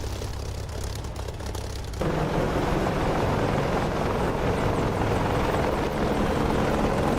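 A simulated aircraft engine in the DCS flight simulator drones steadily throughout, loud and close, with a low throbbing hum, and it gets noticeably stronger and fuller about two seconds in, with no speech.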